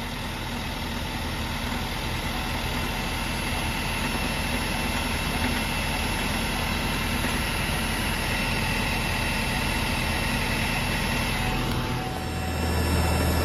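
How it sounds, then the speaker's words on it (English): A 2017 Chevy Volt engine idling at operating temperature, a steady, even drone with a constant hum that holds unchanged for several seconds before a slight shift near the end. "The engine is currently running."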